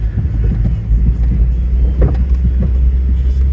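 An engine rumbles steadily as a Jeep churns through deep snow and ruts on an off-road trail, a heavy continuous low drone with some wind buffeting on the microphone and no speech.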